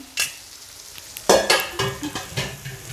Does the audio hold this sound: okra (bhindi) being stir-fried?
yes